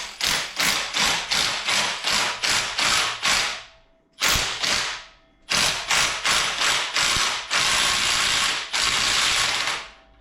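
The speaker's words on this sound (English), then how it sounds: "I got my little cheapy Amazon harmonic balancer puller" A cheap harmonic balancer puller is ratcheted on a junkyard 5.3 LS engine. Rapid, loud metallic ratchet clicks come in quick rhythmic strokes, broken by two short pauses before the cranking resumes, with no talking.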